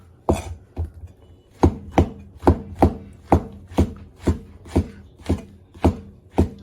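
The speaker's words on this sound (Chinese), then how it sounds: "蘑菇直接给它切片了" Knife slicing through flower mushrooms on a cutting board for a pork stir-fry, a steady run of about fourteen crisp, fairly loud chops with a solid board thud, close up with no talk.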